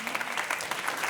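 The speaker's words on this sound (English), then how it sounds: "Give her a round of applause." An audience applauds the humanoid robot Sophia at a talk on AI and creativity, a brief burst of steady, dense clapping from a crowd.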